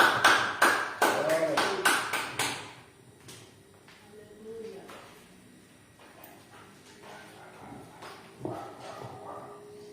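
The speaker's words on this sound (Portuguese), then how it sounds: "As palmas para Jesus." A church congregation claps for Jesus during a sermon, a short run of sharp, fairly rhythmic claps at the start that soon gives way to quieter room noise and scattered sounds.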